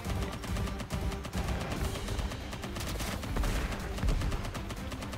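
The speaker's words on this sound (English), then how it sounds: "Cover fire's on me." Gunfire in Contra: Operation Galuga, a dense and continuous run of shots that holds loud and steady for the whole stretch, with no voices.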